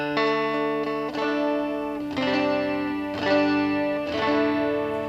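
A 1967 Rickenbacker 360 12-string electric guitar on its neck pickup rings out with several full, swollen, shimmering strummed chords, each left to sustain and chime before the next.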